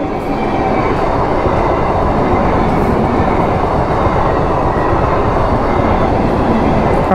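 A Katwa–Howrah local train rushes past a level crossing near Kalna, a loud, continuous rumble and rattle of wagons and wheels that holds steady from start to end.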